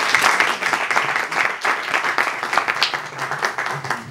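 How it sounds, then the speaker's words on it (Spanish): An audience at a book presentation in Miami applauds to welcome a speaker, a dense, sustained wash of clapping from a crowd with some voices mixed in. "démosle un aplauso"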